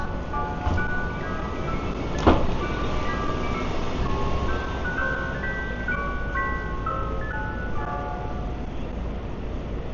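An ice cream truck's melodic jingle plays on a Manhattan street on a January evening, repeating steadily over a constant bed of city traffic noise, with one sharp clank partway through.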